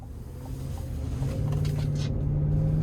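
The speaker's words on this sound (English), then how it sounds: "let's go ahead and take this 2026 Chevy Tahoe Z71 out on the road for a test drive" A 2026 Chevy Tahoe Z71 with the 5.3 engine driving on the road, heard from inside as a steady low engine and road rumble that builds slightly as it gets under way, with no talk.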